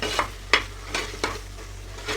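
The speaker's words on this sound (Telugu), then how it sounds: "ఉల్లిగడ్డల్ని కలుపుతూ లైట్ గోల్డెన్ బ్రౌన్ కలర్లోకి వచ్చే వరకు వేపుకోవాలండి" Onions with ginger-garlic paste fry in a pan, stirred in a few brief scraping strokes over a soft, steady sizzle, with no talking.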